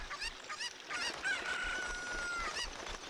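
A cucco chicken in Ocarina of Time clucks and squawks in a few short, bright bursts at close range, followed by a sustained higher tone.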